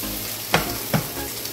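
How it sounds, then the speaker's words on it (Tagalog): Garlic, onion and tomato sauté in a pan for pork giniling, giving a loud, steady sizzle broken by two quick stirring clicks. "So ready na tayo maggisa."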